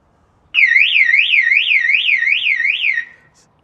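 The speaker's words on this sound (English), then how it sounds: "This is the panic alarm. I will set it off." A caravan key fob panic alarm on a 2025 Xplore XC Lite shrieks loud and close in a steady rising-and-falling warble, running for about two and a half seconds before cutting off.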